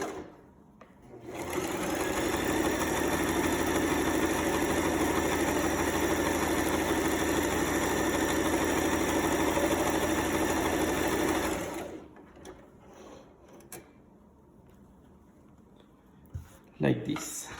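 A sewing machine stitching a seam runs in one steady loud mechanical whir for about ten seconds, then stops, leaving quiet handling noises and a brief voice.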